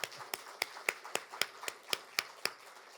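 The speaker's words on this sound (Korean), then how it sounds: "우리 박수 한번 주세요." Sparse, distinct claps from a small church congregation at a deacons' training session, about a dozen sharp, evenly spaced hits in a quiet room.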